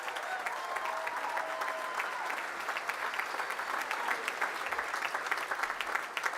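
University of West London graduation audience clapping steadily in a hall, a continuous dense patter of many hands with no talking over it.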